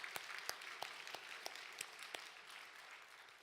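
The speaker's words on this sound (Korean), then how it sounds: "우리 격려의 박수 한번 주십시다. 영광의 박수." A church congregation claps in encouragement during a service, soft, even applause with distinct sharp hand claps standing out, faint and distant.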